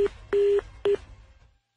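Telephone line tone after a call is hung up: three short electronic beeps, the middle one longest, clean and close with no talk.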